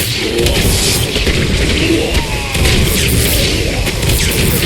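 Explosions from the real-time strategy game Battle Realms Zen Edition, a 2vs2 match, with loud dense bursts and crashes sustained throughout amid busy game noise.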